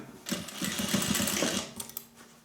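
A sewing machine stitches a sling bag in a short, fast burst of rapid needle clatter lasting about a second and a half, close by, then slows and stops.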